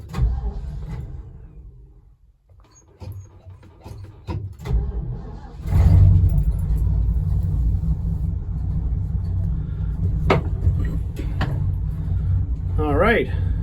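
Old car engine, cold after sitting a week or two, cranking and catching with a deep rumble before settling into a steady low idle; close and loud, with a person talking over parts of it.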